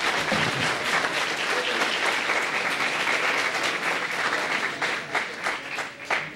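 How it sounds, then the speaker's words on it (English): An audience at a medical college white coat ceremony gives a full round of applause, steady dense clapping that carries on and begins to thin and break up toward the end. "One large round of applause for them."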